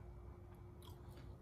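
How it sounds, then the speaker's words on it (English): Someone bites into a warmed store-bought P.F. Chang's frozen spring roll, giving a few crisp crunches close up over a steady low background hum. "this is the crunchiest spring roll I've ever warmed up, and it stayed true to the crunch"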